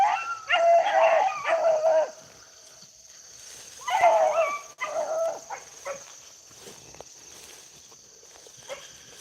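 Beagles bay and howl in bursts while trailing a rabbit, a loose chorus of long drawn-out cries at a moderate distance, trailing off between outbursts amid rustling outdoor ambience.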